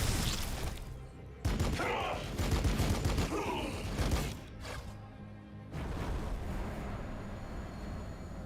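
Gunfire in the video game Warhammer 40K Battlesector, with heavy bursts and booming volleys separated by short lulls, loud and close over rumbling battle noise.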